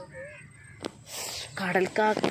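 Crows caw beside a riverbank, a few harsh calls breaking through near the end amid someone speaking, with a faint background hum and a brief thump.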